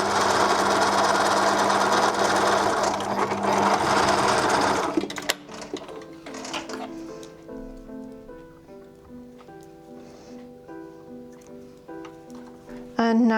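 Sewing machine stitching elastic onto fabric for homemade underwear, running in a loud steady whir for about five seconds, then stopping to leave quieter handling clicks and faint tonal sounds.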